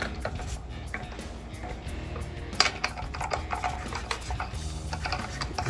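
A socket ratchet clicks steadily while tightening lock nuts on 1.50-inch billet aluminum hubcentric wheel spacers on a 2015-2022 Mustang, close and fairly quiet with a few sharper metallic knocks.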